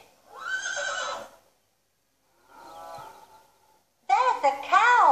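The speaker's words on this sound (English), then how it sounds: "Look at the horses. They are nice and big." Horses on a farm whinny in a children's learning programme: a long neigh, a quieter fainter one after a pause, then a louder, shaky series of neighs at the end, with no speech over them.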